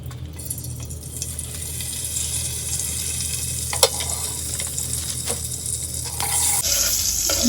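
Butter melts and sizzles in olive oil in a pan for fried rice, a steady close hiss with a few scraping stirs and a sharp clink partway through.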